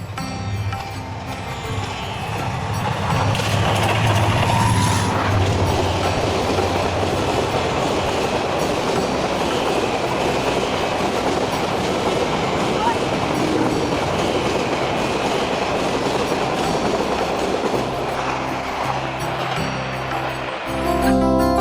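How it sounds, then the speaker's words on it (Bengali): A train rolls through a small, quiet rural railway station in Bangladesh, its rumble swelling near and loud after a few seconds and then holding with a rhythmic clatter of wheels over the rails for a long, sustained pass. "এর মানে হচ্ছে কিছুক্ষণের মধ্যেই হয়তো একটি ট্রেন চলে আসবে।"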